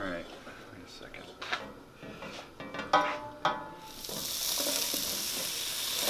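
An onion sautéing in a pan for vegan unstuffed cabbage, scattered utensil knocks and clatter giving way to a loud steady broad sizzle that swells and holds, with people talking over it.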